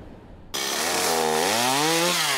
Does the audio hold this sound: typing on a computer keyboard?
no